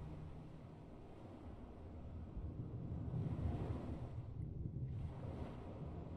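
Water waves in a video game wash in soft, low surges with a breezy hiss, swelling gently near the middle and fading again, quiet and without speech.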